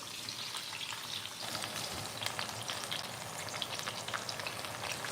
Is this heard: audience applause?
no